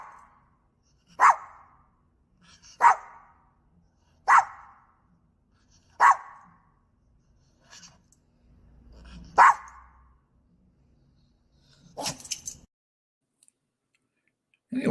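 A single dog barks alone in a quiet shop, five or six sharp, loud barks spaced about every one to two seconds, with a few softer clicks and rustles between them.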